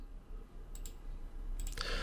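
Computer mouse clicks while adding a file in Adobe Muse: a pair of faint, sharp ticks near the start, then a second quick pair followed by a brief rustle, all soft against quiet room hiss.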